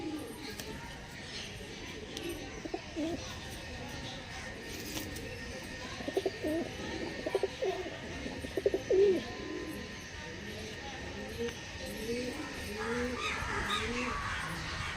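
Pigeons cooing outdoors, soft repeated low coos rising and falling in gentle bursts with some louder flutters midway, fairly faint against a background hum.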